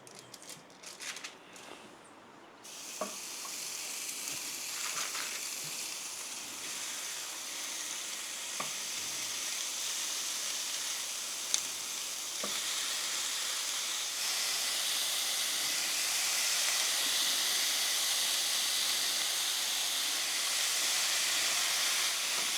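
Steady frying sizzle of food cooking on a Ninja Woodfire ProConnect 20-inch 1760W electric outdoor grill set up as a smoker, a continuous hiss that swells louder partway through, with a few faint clicks and taps early on and no talk.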